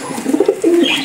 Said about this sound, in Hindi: ये दो क्लास का मकर कबूतर है